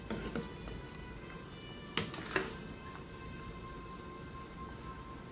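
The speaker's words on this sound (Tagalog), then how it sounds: "Ang first process na ating gagawin ay ang pagprito. Yan, ulo ng isda" Fish head frying in a pan of hot oil, a steady close crackling sizzle throughout with a couple of sharper pops.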